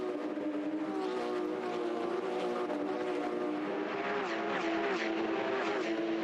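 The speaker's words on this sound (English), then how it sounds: "What a sound. The 400 horsepower GT3 Cup cars across the top of the mountain." 400-horsepower GT3 Cup race cars scream across the top of the mountain at Bathurst, a continuous loud engine roar with shifting pitch as cars pass at speed.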